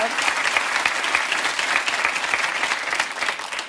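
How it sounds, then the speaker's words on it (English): Studio audience at a televised quiz show bursts into steady, dense applause, loud and sustained throughout, with a voice faintly present underneath. "give Angie a big round of applause"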